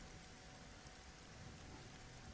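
Rain falls in the survival video game SCUM as a steady, even hiss of drops on surfaces, quiet and unbroken, with no voices.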